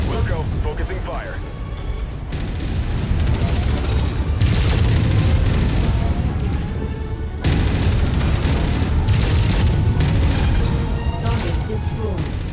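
Heavy weapons fire from battling mechs in MechWarrior 5 Mercenaries, a Hunchback in combat: dense, loud booms and bursts of gunfire roll continuously, with explosions and radio chatter voices mixed over the barrage.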